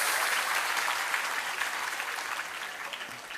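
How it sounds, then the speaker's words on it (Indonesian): An audience applauds students of Tambak Beras at a haul religious gathering at an Islamic boarding school, a dense, even wash of many hands clapping that slowly fades over a few seconds. "tepuk tangan dulu untuk santri tambak beras"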